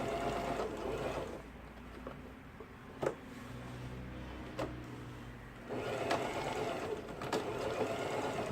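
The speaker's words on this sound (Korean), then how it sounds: "지그잭 바느질이 지금 성공적으로 나오고 있고요" An Elna 3210 sewing machine running a zigzag stitch, a quiet steady mechanical whir with a few soft clicks, slowing midway before picking up again, with no speech.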